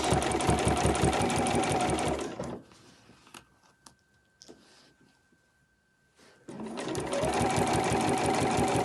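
A sewing machine runs in a steady, fast stitching burst while sewing close to the edge of an overlocker cover between pockets and Velcro, then pauses for a quiet stretch before a second even run of stitching starts up.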